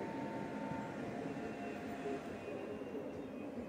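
A Slovak passenger train from the Komárno and Dunajská Streda direction, bound for Bratislava main station, pulls in at platform 3 of Bratislava-Nové Mesto station with a steady, continuous low rumble that fills the platform.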